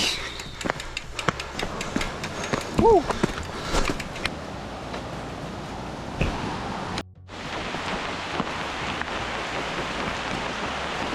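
Rain falls steadily through a Costa Rican forest along a muddy trail, a dense constant hiss filling the whole stretch, with a brief dropout midway and a few louder knocks and a short tonal call early on.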